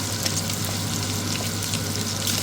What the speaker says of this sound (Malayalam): നല്ല എണ്ണയിലിട്ടിട്ട്